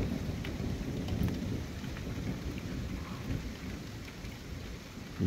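Steady heavy rain pours through a nighttime thunderstorm, with a constant low rumble of thunder underneath and scattered sharp drops hitting nearby surfaces, all without any voices.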